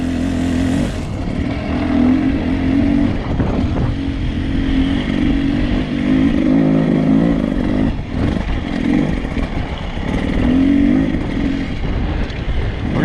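A 2020 Beta 300RR Race Edition motorcycle engine drones steadily, its revs swelling and easing in several surges at close range, with wind buffeting the microphone throughout and no speech.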